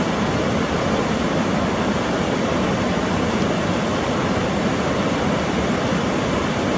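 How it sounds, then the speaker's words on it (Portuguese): Santa Rosa waterfall at Prainha do Alceste, a loud, steady broadband roar of falling water that stays constant throughout, with no voices. "Essa aqui é a cachoeira da Prainha do Alceste, a visão por trás dela."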